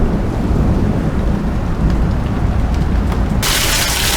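Heavy thunderstorm rain in Las Cruces, New Mexico pours steadily as a loud, continuous wash with low rumbling, swelling into a brighter, harder downpour near the end.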